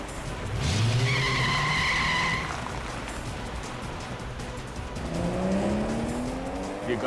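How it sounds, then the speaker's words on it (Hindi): A car speeds off with tires skidding and squealing in a CID crime drama scene, a loud screech with a revving engine early on, then a second squeal and engine roar rising near the end. "ये गाड़ी इतनी तेज क्यों भगा रहा है अचानक?"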